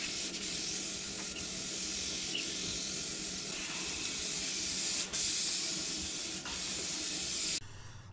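A paint sprayer lays a heavier semi-gloss finish coat onto a window, a steady close hiss that runs continuously and briefly dips a few times before cutting off near the end.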